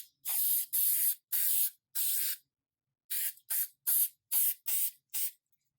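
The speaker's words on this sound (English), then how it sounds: "A couple sprays." An aerosol can of crystal clear coating sprays onto chalk pastel artwork in nine short hissing bursts, four longer ones, a pause, then five quicker ones, loud and close with silence between.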